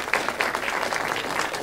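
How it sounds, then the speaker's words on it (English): Audience applause at a university public speaking night, a dense, steady burst of clapping from a seated crowd that fills the short moment without any voices on top. "That's another round of applause for Allison."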